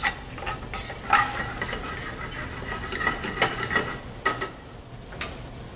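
A pan being deglazed for a salmon sauce, loud sizzling and bubbling with a utensil stirring and scraping the bottom, close and continuous with no talking.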